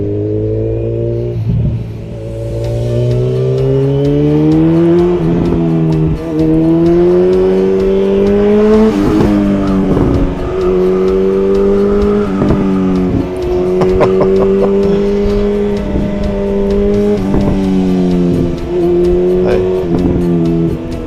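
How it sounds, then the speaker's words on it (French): A motorcycle engine revs up and down in repeated rising and falling sweeps, loud and close, with sharp popping backfires scattered between the revs. "Je vous laisse profiter encore un petit peu du son de la moto."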